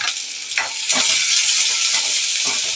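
Thinly sliced onions sauté in hot oil with popped mustard seeds, a steady loud sizzle broken by a few soft stirring scrapes, close up with no talking.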